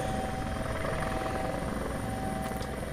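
A helicopter in the Prepar3D V5 flight simulator hovers and flies with a steady, loud rotor and engine drone, unbroken for the whole stretch with a constant whine on top.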